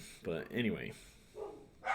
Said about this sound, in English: Sorry if you hear my dogs barking